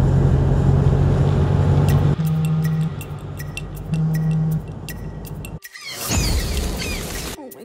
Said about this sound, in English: Oh my god, why did the car shut down?